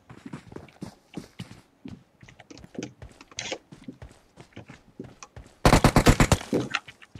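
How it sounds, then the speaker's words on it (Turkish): Gunfire in PUBG Mobile aimed at the player: a rapid loud burst of automatic shots breaks in after a stretch of quick, light footsteps. "Ya bana sıkmaya başladı hemen."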